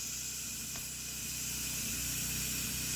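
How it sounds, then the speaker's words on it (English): Steam hissing out of an electric pressure cooker's release valve during a pork chop and baked potato meal, a steady broad hiss lasting throughout at close range with no voices. "I'm going to press the button to release the steam"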